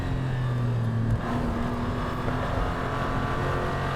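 A Porsche 911 Turbo S Cabriolet with 711 horsepower pulls hard, its engine a steady, loud drone with a rising tone that shifts pitch about a second in, sounding continuous and close.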